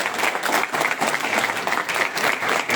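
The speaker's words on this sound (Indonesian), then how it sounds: "Tepuk tangan untuk saudara" Audience at a Bali gubernatorial election victory declaration applauds in dense, steady clapping that holds at an even level throughout, with a faint crowd murmur beneath.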